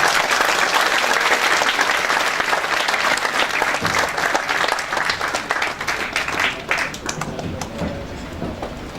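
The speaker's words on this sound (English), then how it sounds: "I request all of you to give a big applause" A lecture audience gives a big round of applause to welcome the speaker, dense and loud at first, then thinning and tapering off toward the end.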